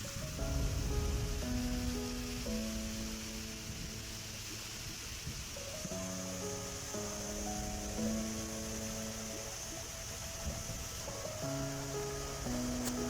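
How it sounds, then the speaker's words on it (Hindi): Steady broadband rush of the Jogi waterfall near Joshimath in the Himalayan hills, a continuous wash of falling water heard beneath louder background music throughout. "ये है जोशीमठ का जोगी वाटरफॉल, जो कि बहुत ही सुंदर है।"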